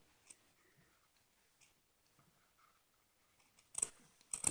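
Scissors snip carefully around the edge of a bead embroidery ring, giving a few quiet close clicks spaced apart, then louder crisp cuts near the end.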